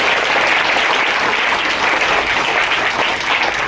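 Loud, sustained applause from a crowd welcoming guests at a community event for an ashram school, dense clapping filling the whole stretch with no break.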